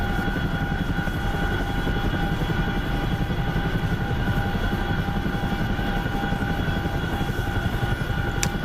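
Chinook helicopter rotor and engine droning steadily and loudly throughout, a continuous close-range thrum with a faint click near the end.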